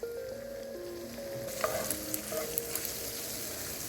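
Diced, drained sun-dried tomatoes fry in a pan with a soft, continuous sizzle and occasional stirring scrapes, fairly quiet and close, with no one speaking.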